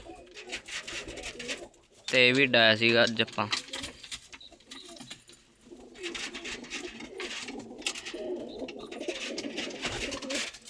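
Homing pigeons coo in a loft, a low rolling bubbling call repeated near and clear for about a second, then softer cooing continues beneath someone talking.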